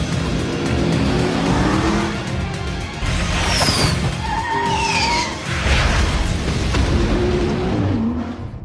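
A car in a movie prison-break scene accelerates hard toward a bridge, engine revving and tires squealing amid a busy action soundtrack with sweeping effects.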